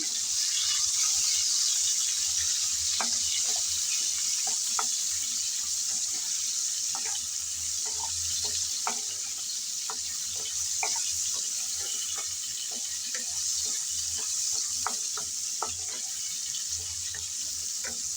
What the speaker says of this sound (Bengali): তেল হালকা গরম হয়ে আসলো এখন গরম তেলে আমি ফুলকপিগুলো সব দিয়ে দিলাম